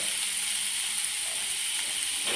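Garlic sizzling in hot oil for a tempering for mango dal, a steady bright hiss of frying that holds evenly throughout with no talk.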